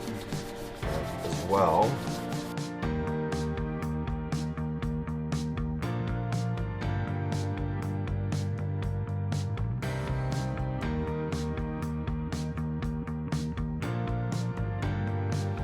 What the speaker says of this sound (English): Got some 220 grit sandpaper. I'm gonna go ahead and lightly sand the gasket off in spots.